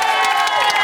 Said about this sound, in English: Listen, give him a round of applause.